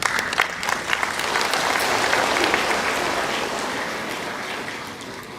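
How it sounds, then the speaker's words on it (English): Audience applause for a speaker at a talk on vegetarian diets and the environment, dense steady clapping that starts loud and slowly fades over several seconds, with no voices over it. "Give him another round of applause, folks."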